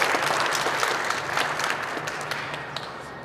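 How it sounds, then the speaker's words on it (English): An audience at a CANstruction charity fundraiser event applauds for the sponsors, a full steady round of clapping that gradually thins and softens toward the end. "So a round of applause for our sponsors."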